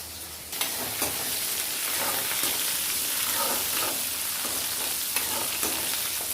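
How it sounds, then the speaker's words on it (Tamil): Onions sizzle steadily in hot oil in a pan for a Tirunelveli-style rock fish curry, with occasional stirring scrapes, close and continuous. "வெங்காயம் நல்லா வதங்கிட்டு"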